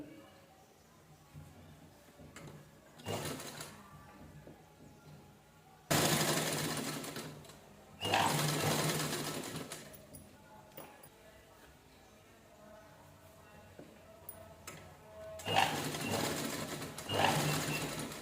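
A sewing machine stitches the front neckline of an unlined princess blouse reinforced with canvas, running in several loud bursts of a few seconds each separated by quieter pauses.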